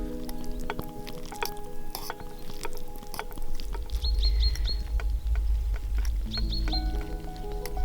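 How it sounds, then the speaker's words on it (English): Birds and crows calling in a quiet valley, with short repeated chirps and scattered calls over a steady low rumble that may be a camp stove burning nearby. "We're between two valleys, and the only thing you can hear is birds, crows,"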